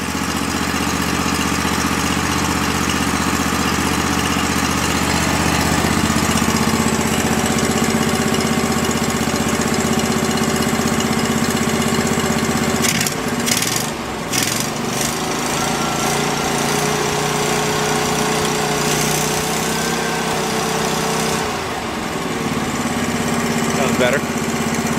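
Small engine of a forgotten Go-For digger from an estate sale idling steadily and loudly up close, with a brief sputter and clatter partway through.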